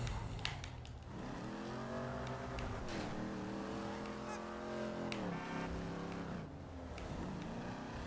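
A car engine in Grand Theft Auto V hums and revs steadily, its pitch rising and falling as the vehicle drives along, loud and close.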